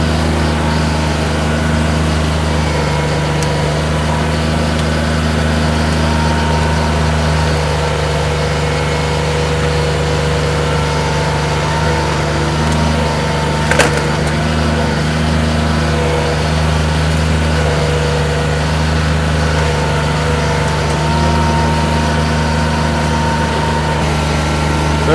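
Steady drone of a compact utility tractor engine at a constant working speed while its root grapple rakes along the ground, loud and unbroken throughout, with a faint brief click partway through.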